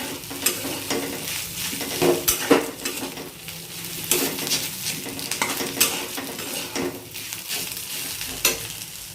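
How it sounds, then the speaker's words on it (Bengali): Mashed potato stuffing for onion kachori being mixed and stirred in a bowl with a little sugar, a steady scraping and clinking of a utensil against the dish with repeated sharper knocks, close and without talk. "তো আলুটা এখন ভালো করে মিশিয়ে নিয়েছি।"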